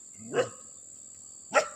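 Two separate dog barks, one early and one near the end, with quiet between them and a steady high tone running underneath, heard outdoors in a rural hillside area.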